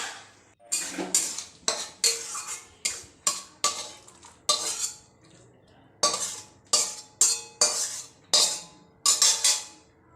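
Aloo jhinge posto scraped from a pan into a bowl with a metal spoon, a steady run of sharp, close scraping and clinking strokes with brief pauses.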